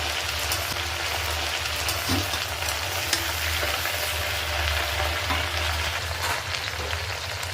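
Tempering spices fry in hot oil in a pan, producing a dense continuous crackling sizzle like rain, close and steady with occasional faint stirring taps.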